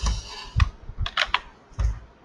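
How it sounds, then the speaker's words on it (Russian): A password is typed on a computer keyboard, a handful of close, sharp key clicks arriving in short irregular bursts with brief pauses between them, alone without talk. "Так, пароль вводим."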